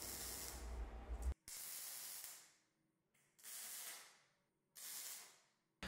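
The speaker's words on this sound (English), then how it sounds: "I'll just make a straight cut with the plasma cutter" Plasma cutter cutting 14 gauge steel shelves, repeated hissing, spraying bursts of a second or two each with short gaps between, fairly faint and with no talking.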